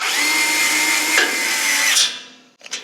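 A power tool tightens the flange bolts on the gas pipe of a Weil-McLain SlimFit boiler in a loud, steady whir lasting about two seconds, then winds down, followed by a short clattering pulse.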